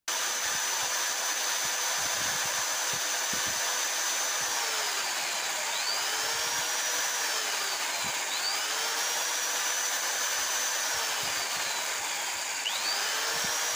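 An electric drill machine runs with a step drill bit as a steady, continuous high whine that holds its level and pitch, with small pitch sweeps as the load changes and occasional clicks underneath.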